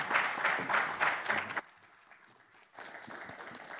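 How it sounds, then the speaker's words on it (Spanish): An audience at a classical music concert applauds a duo. The clapping is loud and dense, drops to a faint patter midway, then swells again. "Le retiramos el fuerte aplauso"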